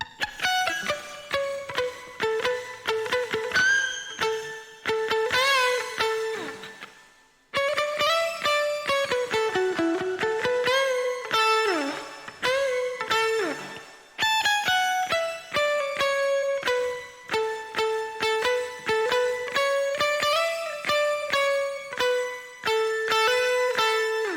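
A fast, expressive electric guitar solo with bends and rapid runs, loud and continuous apart from one brief break, played alone without any speech.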